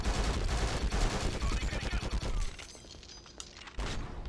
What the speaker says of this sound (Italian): A chi spari? Chi spara Foley?